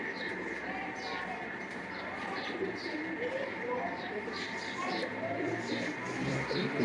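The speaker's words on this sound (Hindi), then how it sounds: "ये कबूतरी बड़ी बेहतरीन कबूतरी बेटे" Teddy and Rampuri pigeons in a loft give soft, repeated cooing calls over a steady low background hum, while someone talks continuously.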